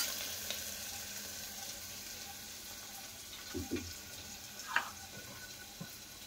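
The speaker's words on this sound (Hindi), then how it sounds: "अब हम ये प्याज और लहसुन भून लेंगे।" Onion and garlic fry in a pan for a parmal vegetable dish, giving a steady, soft sizzle with occasional faint clinks and stirring sounds, fairly quiet throughout.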